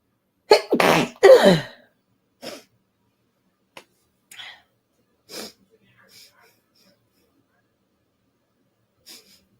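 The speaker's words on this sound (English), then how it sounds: "Gotta sneeze again. It's gonna come again." A loud, close sneeze bursts out in two sharp blasts, followed by scattered quieter sniffs and breaths with long silences between.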